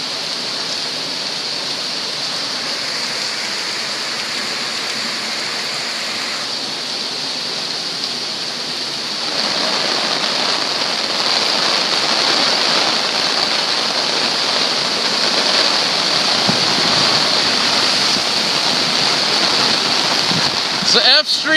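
Flood water on F Street from an overflowing Colman Creek: a steady, loud rushing roar that swells partway through and carries on without a break.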